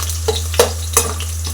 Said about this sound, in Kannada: ಸೊ ಹಂಗಾಗಿ ಸ್ವಲ್ಪ ಫ್ರೈ ಮಾಡಿಕೊಡಿ.